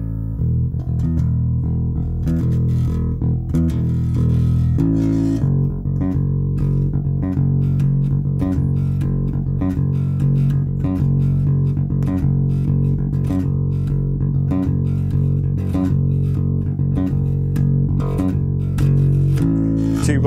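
Bass guitar playing the verse riff of a rock song, with a short pickup leading into a steady, driving run of repeated low notes that fills the clip at even loudness, with no talking.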